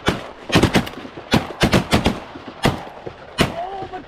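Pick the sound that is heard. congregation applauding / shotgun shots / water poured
shotgun shots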